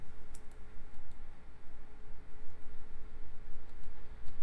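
A computer mouse clicked on a Cancel button in SQL Server: a couple of sharp, close clicks near the start, then a few fainter ticks over a quiet room hiss, with no talking.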